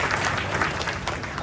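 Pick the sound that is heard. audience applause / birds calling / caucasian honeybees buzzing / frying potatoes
audience applause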